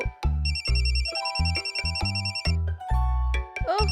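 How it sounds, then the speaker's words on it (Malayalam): A cartoon phone rings with a bright electronic ringtone melody over a thumping rhythmic beat, loud and close, lasting a few seconds. "ആരാ ഈ നേരത്ത് എന്റെ ഫോണിൽ വിളിച്ച് മാഡത്തിനെ ഡിസ്റ്റർബ് ചെയ്യുന്നത്?"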